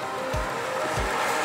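A Renault Kiger with the 1.0-litre turbo engine accelerating, giving a loud, steady engine and road roar that builds with no pauses and no voices.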